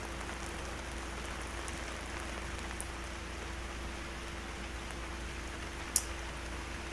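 A steady, faint rain effect in the horror video game Vergel The Lost Chapters, an even hiss of falling rain with a low hum and a few tiny clicks.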